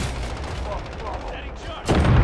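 Gunfire in a Call of Duty hardcore domination match: dense rapid shots and bursts with a loud, close volley near the end.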